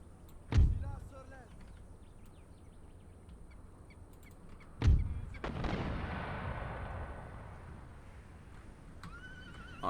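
Mortar fire on a battlefield in Empire Total War (Darthmod, Ottoman Empire campaign): two heavy booming blasts about four seconds apart, each trailing into rumbling battle noise, with distant horse whinnies and ambient clamour between.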